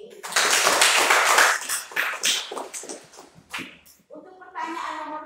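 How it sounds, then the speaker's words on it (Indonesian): A classroom group bursts into brisk applause, a dense run of close hand claps that thins out and fades, followed by a voice speaking. "Oke, tepuk tangan untuk Jenny."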